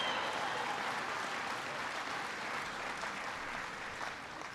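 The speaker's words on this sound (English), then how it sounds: "Come on, give Todd a big round of applause." An audience at a Ford stamping plant in Liberty, Missouri applauds during a speech, a steady dense wash of clapping that stays loud throughout and tapers only slightly at the end.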